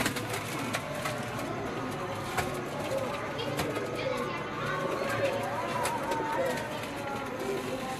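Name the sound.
Vaishi Golden pigeons cooing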